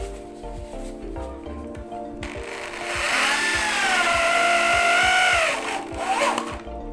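A power drill whines up and bogs as it drives a self-tapping screw through wood into steel, loud and close, with a rising, steady high-pitched motor tone lasting a few seconds.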